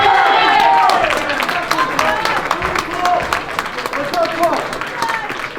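Audience applause and some cheering at a bodybuilding show, a broad crowd clapping that starts loud and eases into a steady patter, with scattered voices and a host's speech mixed in.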